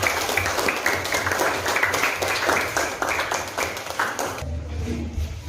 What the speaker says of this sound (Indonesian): Beri aplaus dulu temannya yang sudah presentasi